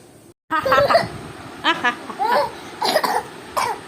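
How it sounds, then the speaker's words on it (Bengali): A child coughing at home, a run of loud, close, rough coughs in several bursts separated by short pauses. "কাশি এসে গেছে জীবনে প্রচন্ড পরিমাণে"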